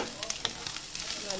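Onions sizzling and frying in a hot pan, a steady dense crackle with small pops throughout, close and loud, with no voices.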